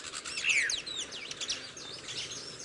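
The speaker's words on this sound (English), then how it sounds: "the noisy yellow-rumped cassicue" A yellow-rumped cacique gives a run of bright, sliding whistles and chirps against a faint outdoor background, with several quick calls overlapping in close succession.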